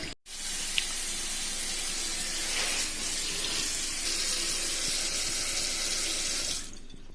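Water gushes steadily from a newly repiped kitchen faucet with PEX fittings, a strong close hiss that starts abruptly, runs for about six seconds, and then cuts off.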